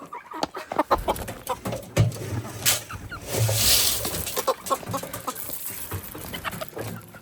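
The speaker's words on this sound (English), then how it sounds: "So I think we have about 40 chickens now" Flock of about forty backyard chickens clucking in a woodland yard, repeated close, irregular clucks and short calls with a brief louder squawk, no one talking.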